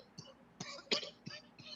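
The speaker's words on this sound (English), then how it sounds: "We'll take a small cough break, choke break." Several short coughs and throat-clearing bursts from a man in a casual hip-hop podcast setting, four or five close, loud hacks spaced irregularly across a couple of seconds.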